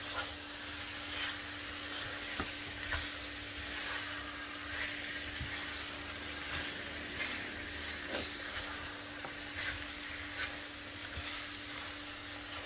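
Chicken feet fry in oil in a pan while being stirred, a soft continuous sizzle and hiss with light scraping clicks from the stirring, moderately close and with no talking.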